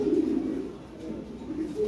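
Lahori pigeons coo in low, throaty rolling notes close by, one strong coo at the start and softer repeated cooing afterward over a quiet room background.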